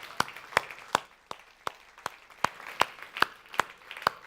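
A small audience gives scattered, evenly spaced claps for startup challenge candidates at a female founders event, sharp individual hits over a faint room murmur.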